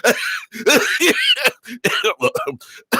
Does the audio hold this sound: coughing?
yes